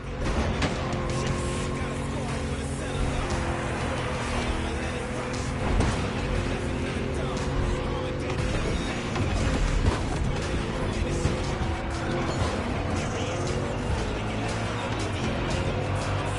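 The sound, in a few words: race cars driving in video game The Crew Motorfest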